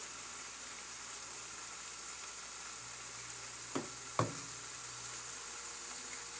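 Ham sizzles in a pan for breakfast with a steady, moderate frying hiss, broken by two brief clinks or scrapes partway through.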